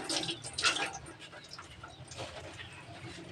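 Running water splashing steadily while dishes or items are washed by hand, close and moderately loud, with short bursts of spray and handling noise and no talk.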